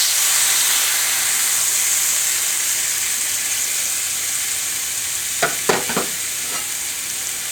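A smashed burger patty with onions sizzles in a cast iron pan for an Oklahoma-style burger, a steady bright hiss running throughout, with a few sharp scraping or tapping clicks near the end.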